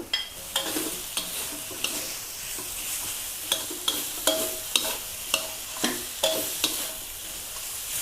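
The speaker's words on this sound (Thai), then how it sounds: "ผัดเครื่องทุกอย่างให้หอมเลยนะคะ" Chinese sausage, shiitake mushrooms and ginger are stir-fried together in a pan, a soft steady sizzle punctuated by regular clinks and scrapes of a spatula roughly every half second, close and without talk.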